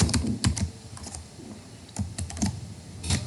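Keys on a computer keyboard click in short irregular clusters as a word is typed, close and clear with brief pauses between strokes.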